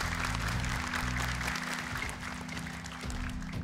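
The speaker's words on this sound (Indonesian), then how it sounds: "Silakan boleh tepuk tangan untuk mereka" Steady applause from a crowd in a TV competition studio, dense and sustained throughout, with a low hum running underneath.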